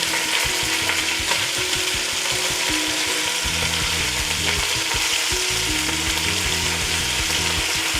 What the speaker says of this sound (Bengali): চিকেনটা এরমভাবে 2-4 বার নাড়াচাড়া করে চাপা দিয়ে দেবো